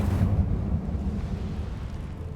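A burst of Incendio fire magic from Hogwarts Legacy, a low roaring whoosh that swells loud at the start and then settles into a steady rumbling crackle with no talking.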